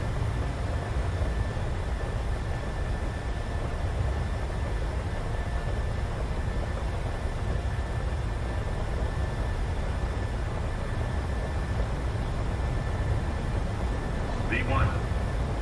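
A Boeing 737's jet engines at takeoff thrust give a steady, even broadband roar that holds for the whole stretch, heard from inside the aircraft with no speech over it.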